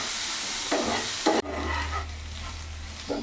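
Chopped onion sizzles in hot oil in a pan, giving a steady hiss broken by short stirring scrapes, close and clear with no talking.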